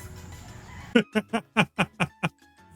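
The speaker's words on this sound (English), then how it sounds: "these are cockfighting roosters" A cockfighting rooster clucks close by in a quick run of seven sharp, evenly spaced calls after a quiet start, with faint farmyard background.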